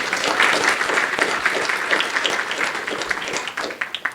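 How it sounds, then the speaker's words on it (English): Dense applause from an audience at a gala awards ceremony fills the whole stretch, loud and continuous, thinning into scattered claps at the end. "Round of applause for him."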